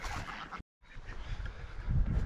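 Ducks on an off-grid homestead give a few close, raspy quacks and honks, broken by a brief silent gap, with nobody talking.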